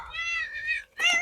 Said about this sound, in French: Désolée pour mon chat, encore une fois.